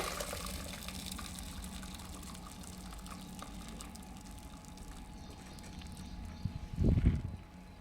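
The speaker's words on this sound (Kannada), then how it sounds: "ಈಗ ಬಸಿತಾ ಇದ್ದೀನಿ ಕಾಳು" Water drains off cooked horse gram in a kitchen: a faint, steady trickle of liquid, then a brief, louder gush of pouring near the end.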